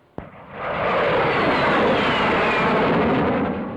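A jet aircraft's gas turbine engine roars loud and close, building quickly after a sharp opening crack into a sustained, rushing scream that holds steady throughout.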